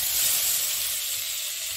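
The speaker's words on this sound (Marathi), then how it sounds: "आता हा कांदा फोडणीला टाकायचा आहे." Chopped onion hits hot tempering oil with asafoetida, giving a loud, close, continuous hissing sizzle that holds steady for under two seconds.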